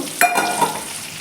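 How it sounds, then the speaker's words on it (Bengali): Hot water is poured into a pan of frying green banana and other vegetables for a thin Sylheti fish curry. A sudden hiss rises, then settles into a softer sizzle. "গরম জল ঢেলে দিচ্ছি"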